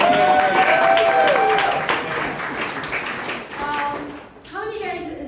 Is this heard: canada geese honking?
no